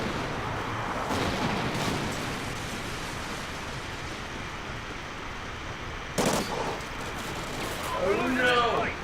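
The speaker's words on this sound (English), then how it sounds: "Friendly Trinity rocket inbound." Rocket strike explosions from a Trinity rocket in a video game, a steady roaring rumble of blasts and gunfire with a sharp burst near the end, under faint talk.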